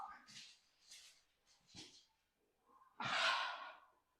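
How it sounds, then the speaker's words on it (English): A pet dog on a sofa sniffs and snorts up close in a few short, breathy bursts, ending with a stronger huffing snort, quiet overall with no talk over it. "Say hello to my dog, Marla."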